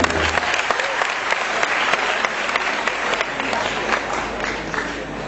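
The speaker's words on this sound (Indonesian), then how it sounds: "Tepuk tangan untuk beliau berdua." Sustained applause from a large crowd at a university cultural gathering, dense and steady throughout, with many hands clapping at once.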